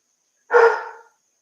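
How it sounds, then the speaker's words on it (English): A single sharp dog bark rings out once, close and clear, against otherwise silent surroundings. "And barking."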